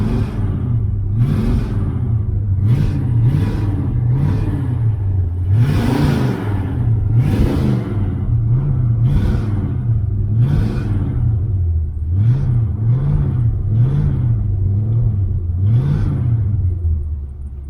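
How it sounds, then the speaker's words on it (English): A Pontiac GTO engine idles rough after a jump start, its uneven loping rumble pulsing continuously and loud up close, with occasional revs swelling over the steady drone. "got the GTO, had to boost it. He's running a little bit rough here"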